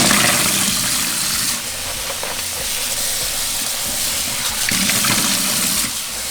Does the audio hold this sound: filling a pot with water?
yes